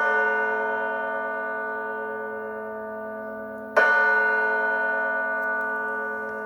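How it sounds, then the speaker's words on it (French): Synthesized bell tone pitched down for a song, struck twice several seconds apart, each strike ringing out with a long, slowly fading resonant sustain, clear and alone. "pour faire la cloche de la chanson, tu n'as qu'à baisser le ton"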